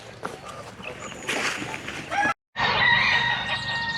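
Chickens on a farm with goslings and ducks cluck and squawk nearby in a busy, overlapping jumble, a loud crowing rooster-like call rising near the end after a brief cut to silence.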